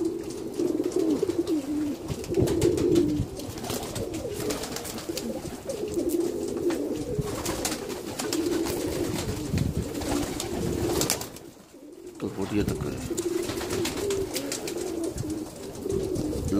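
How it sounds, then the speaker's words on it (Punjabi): Domestic pigeons, including a white-ringed bird, coo steadily at close range in a low, rolling drone that runs almost without pause, with one brief break near the end. "ਚਿੱਟੀ ਕੜੀ ਵਾਲਾ ਕਬੂਤਰ"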